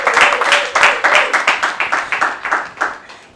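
Studio audience at a Miss Muslimah Ghana pageant show applauding, a loud, dense round of clapping that starts strong and gradually thins and fades over a few seconds.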